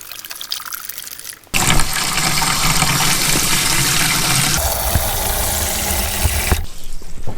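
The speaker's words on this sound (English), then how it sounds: "So it says you add this container to a gallon of water. Let's go ahead and pour it in." Metal Rescue rust remover is poured in a steady, loud, close stream into a bucket holding about a gallon of water, running unbroken for roughly five seconds and then stopping abruptly, with no talk over it.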